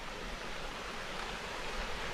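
A small waterfall on an island in the Philippines gives a soft, constant wash of falling water, a faint and even rushing hiss with no voices over it.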